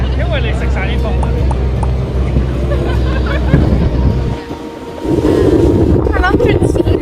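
Strong wind buffets the microphone on a boat crossing a lake in Torres del Paine, Chile, a loud steady roar with low engine-like rumble throughout, briefly dipping near the middle before surging back.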